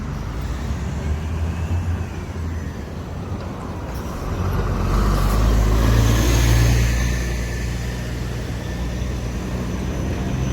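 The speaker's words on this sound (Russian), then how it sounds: "И вот автобус Урал." A Ural bus passes along a city street in Yekaterinburg, its engine rumble rising around the middle as it draws near and then easing, over steady traffic noise with no talking.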